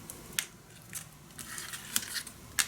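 Scissors snipping string while assembling a handmade wedding mini album: a series of quiet, close, crisp snips and small crinkles, about six in under three seconds, with no talking.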